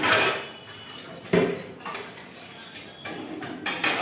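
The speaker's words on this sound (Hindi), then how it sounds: "फाइनली यहाँ पर बर्तन भी मैंने धो लिए हैं।" Dishes and utensils being washed in a home kitchen: irregular clinks and clatters of pots, plates and cutlery, some sharp and close, with quieter rinsing noise between them.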